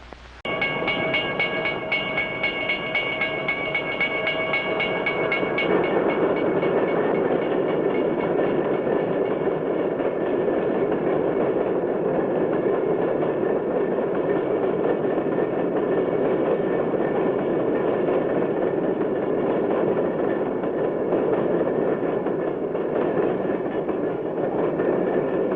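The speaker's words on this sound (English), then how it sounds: "There goes the fast freight train from Kansas City to Chicago." A long fast freight train on the Kansas City to Chicago run rolls past close by, opening with a sustained horn blast before settling into a loud, steady roar of wagons and wheels that holds unbroken to the end.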